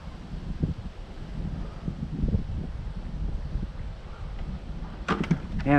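Steady wind roars and buffets the microphone while kayak fishing on open water, a dull continuous rumble that ends with a brief higher-pitched squeak or reel sound.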